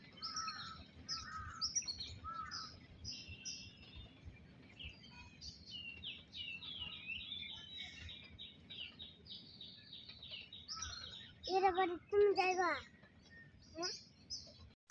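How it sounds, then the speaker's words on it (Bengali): Crows caw repeatedly against a low steady rumble, with a cluster of louder, harsher caws near the end; the calls are moderately close and fairly clear. "কাউয়া ডাকতেছে বেশি"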